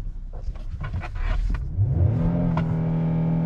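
A 2021 Kia Telluride V6 engine revs up sharply, its pitch rising, then holds at a loud, steady high drone against the soft limiter at about 5,000 rpm, close by.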